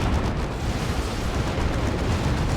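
A Chaos Predator tank is destroyed in the Dawn of War 2 strategy game: a dense, sustained roar of explosions and weapon fire rumbles continuously at high level, with no clear gaps between blasts.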